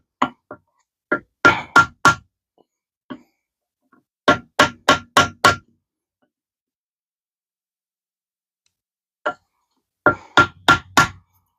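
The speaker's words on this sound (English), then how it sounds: "It's a rubber mallet, remember? And just give it love taps." Clusters of quick, dull rubber mallet taps on an automatic transmission part in short bursts of three to five, with gaps between groups, close and fairly loud.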